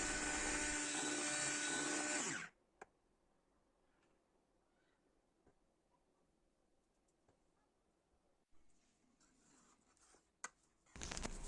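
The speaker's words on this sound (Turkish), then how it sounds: "Blender ile 1-2 dakika boyunca çırpıp tekrardan buzdolabına alacağım." An electric blender whips a thickened homemade ice cream mixture in a loud, steady burst of about two seconds, then goes quiet with faint handling noises, and starts again in a brief burst at the end.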